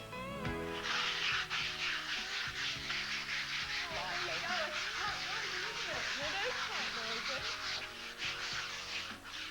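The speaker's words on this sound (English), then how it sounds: "we've got to sand it." Steady sanding of a freshly painted wall surface in preparation for wallpaper, a continuous rough rubbing that runs throughout with faint background noise and occasional higher squeaks.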